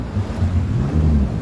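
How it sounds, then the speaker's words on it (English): A dredging vessel on the Demerara River gives off a steady, loud, low rumble of pumping and churning water, with no voices. "what this vessel is doing is digging the Demerara River deep enough"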